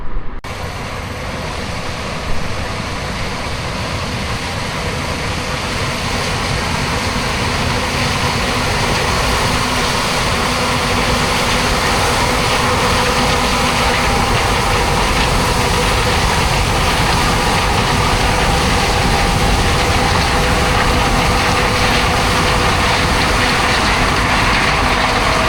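Tractor and forage harvester engines run in a field as one loud, unbroken, low mechanical roar that holds steady throughout.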